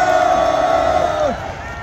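A large rally crowd on the asphalt in front of the National Assembly in Yeouido, Seoul, shouts in a loud, sustained, massed cry against impeachment on a cold winter day, the voices holding one pitch before sliding down and trailing off.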